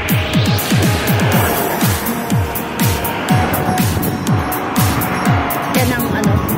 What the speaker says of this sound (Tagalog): Dumadaan pa yung mga sasakyan.